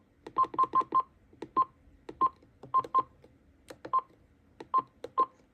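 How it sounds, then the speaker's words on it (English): Keypad tones from a Motorola L402C mobile phone speed-dialing voicemail: a series of about a dozen short, clear DTMF beeps in irregular quick groups, close and distinct in a quiet room. "I set voicemail to speed dial 1 as typical, so I'm going to hold that down."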